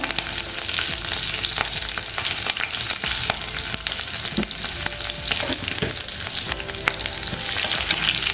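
Urad dal, green chillies and curry leaves frying with cumin in hot oil for shevaya upma, a loud, dense, continuous crackling sizzle close up, with a few faint stirring clicks.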